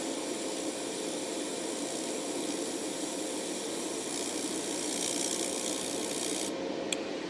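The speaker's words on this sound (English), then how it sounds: "Time for my first ever laser welds." A handheld wire-fed laser welding machine running on metal, a steady dense hiss and buzz held continuously up close, cutting out near the end with no talking.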